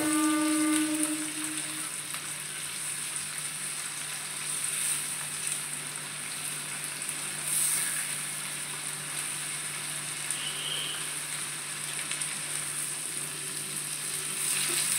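Onions and green chillies sauté in a pan over a high gas flame for butter garlic chicken, giving a continuous moderate sizzle with faint stirring and no talk.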